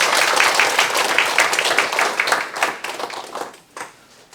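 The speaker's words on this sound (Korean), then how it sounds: "다시 한번 큰 박수를 부탁드립니다" Audience applause at the opening ceremony of an academic conference marking the 110th anniversary of An Jung-geun's Harbin action, dense clapping that thins and fades out toward the end.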